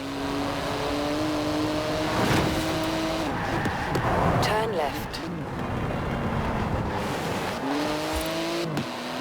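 A carbon-fibre bodied car with a 3.8-litre twin-turbo flat-six making 700 horsepower, driven through Edinburgh streets. It gives a loud, close engine note with rising and falling revs and gear changes, while a navigation voice speaks briefly.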